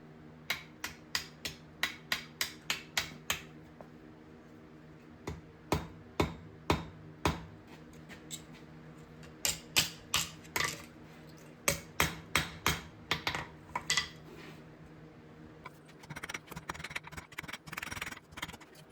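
Hammer taps on metal set over a hardy cutoff tool while forging a decorative skull wall mount: sharp, evenly spaced metallic strikes in quick bursts, close and fairly loud, with a short pause midway and a denser run of blows near the end.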